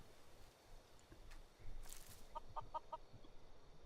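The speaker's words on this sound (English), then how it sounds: "oh, some chickens. Hello, chickens." Chickens in the video game Skyrim give a quick run of soft clucks, four short evenly spaced notes after a brief squawk, quiet and close over low game ambience.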